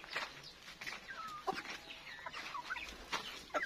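Chickens clucking and squawking in a free-range chicken coop, several birds calling irregularly over a steady background of farm noise.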